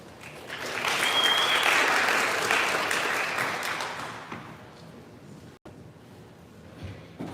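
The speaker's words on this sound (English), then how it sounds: "Please give a round of applause." Audience applause at a startup accelerator demo day, a dense burst of clapping that swells quickly, holds strongly for a few seconds, then tapers off into scattered claps and room murmur.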